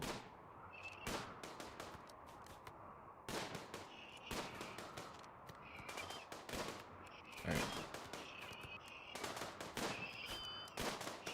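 Colonists in a firing line in RimWorld let off rapid volleys of gunfire: repeated sharp cracks and bursts, some overlapping, spread across the whole stretch over a steady background hum.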